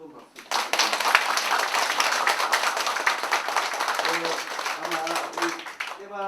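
A seated audience gives lawmaker Kim Jong-min a sustained round of applause after his lecture, dense clapping filling the room for several seconds with voices rising near the end.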